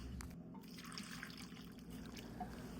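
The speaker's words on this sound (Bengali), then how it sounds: "সবজিগুলো সিদ্ধ হওয়ার জন্য আমি এখানে 2 কাপ পানি দিয়ে দিচ্ছি।" Two cups of water poured over mixed vegetables in a cooking pot, a soft continuous trickling splash heard close and fairly quiet, with no talking.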